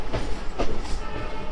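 A local train on the main line out of Sealdah toward Diamond Harbour pulls away, a steady rumbling rail noise with a couple of brief louder clanks, heard close and continuous without talk.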